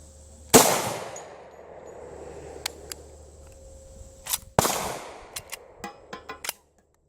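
A .45 ACP pistol loaded with shotshell powder fires one sharp, loud shot, then after a pause a second shot, each ringing briefly, followed by a few smaller clicks and knocks.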